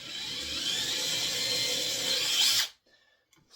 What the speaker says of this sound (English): we'll drill the second hole with this backing board so I don't go through my table